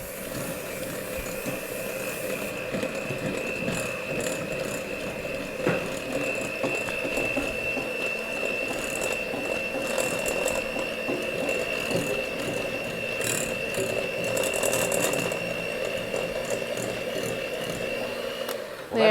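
An electric mixer churns shortbread bar dough until crumbly, giving a continuous mechanical whir with a steady motor tone and scraping, rattling texture that runs throughout at even loudness.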